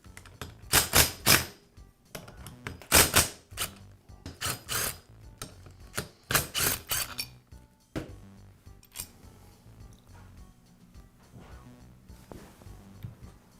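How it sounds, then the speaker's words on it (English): Screws being backed out of a spring-loaded Karcher pressure washer pump during a pressure-spring repair, heard as repeated close ratcheting, scraping bursts in distinct groups, then quieter clicks and rustling afterward. "I'll go ahead and remove two of the screws first, and then slowly remove the other two."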